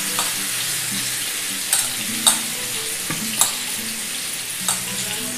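Chicken tangdi kebabs shallow-frying in masala give a steady, close sizzle, with a few sharp clinks of a spoon stirring the pan over it.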